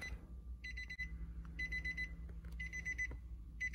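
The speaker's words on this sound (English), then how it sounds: "So yes, it is still beeping." A Nissan Pathfinder's warning chime keeps beeping in regular repeated bursts while a brake controller is installed, clear and close over low background hum.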